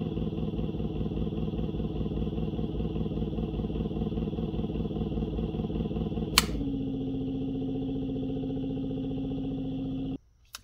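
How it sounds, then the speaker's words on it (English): Kunray 3000 watt electric motor run on a Fardriver controller during a benchtop test, giving a steady loud whine and hum that abruptly drops in pitch partway through with a sharp click, continues at a lower tone, then cuts out. "benchtop test with the brand new Fardriver kitted with the 3000 watt motor by Kun-ray"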